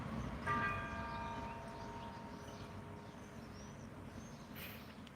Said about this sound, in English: bells are ringing for us.